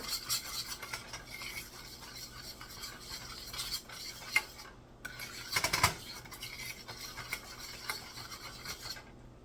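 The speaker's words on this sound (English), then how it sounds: "And give it a good stir" Candied sweet potatoes with cinnamon and nutmeg are stirred in a pot, a quiet, gritty rasping and rubbing of a spoon with irregular scrapes and a brief clatter midway, soft and close with no talking.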